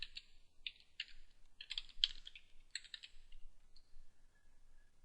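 A password is tapped out on a computer keyboard during SQL Server setup: quick clusters of near, sharp key clicks with brief gaps, then quiet, and no one speaking.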